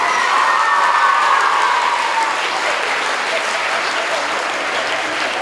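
A large crowd at a girls' school annual sports event claps and cheers loudly, with high voices and shouting mixed into a dense, sustained wave of applause.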